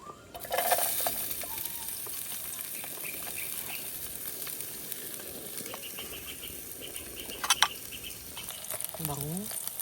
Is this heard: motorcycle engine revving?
no